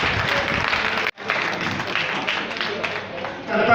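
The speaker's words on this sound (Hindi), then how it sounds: "आप ताली बजाकर अभिनंदन करें" Applause from the audience at a Lions Club regional convention in Nagaur, a dense, steady wash of clapping that briefly cuts out and then resumes, with talk heard faintly underneath.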